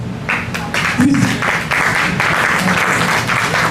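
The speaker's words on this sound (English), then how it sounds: "please give them a big round of applause" Applause from a small audience at a book signing held in a Caribbean restaurant, a steady patter of clapping running the full length, fairly close and even, with some voices mixed in.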